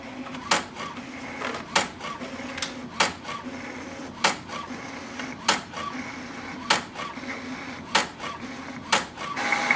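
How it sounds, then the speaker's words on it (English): An HP OfficeJet Pro 8210 printer running a two-sided print job gives a steady mechanical hum broken by about a dozen sharp, evenly spaced clacks and feed strokes. No one speaks. "so it is printing on the both sides"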